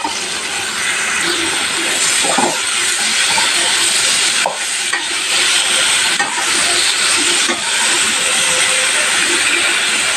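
Chopped tomatoes sizzling in hot oil in a pan while cooking a brinjal and egg fry, giving a loud steady hiss that runs throughout with a few faint clicks.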